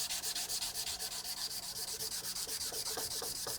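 A chef's knife blade being hand sanded with abrasive paper, rapid rhythmic back-and-forth rubbing strokes, close and steady with no talking.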